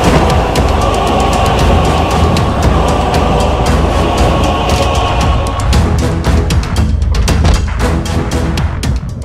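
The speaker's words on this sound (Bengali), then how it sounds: "আপনার ডান দিকে চলা ট্রেনটিতে উঠে পড়ুন।" A train runs loudly on its rails in a Bangla action film scene, a steady heavy rumble with dense, rapid clicking and clacking throughout and no voices.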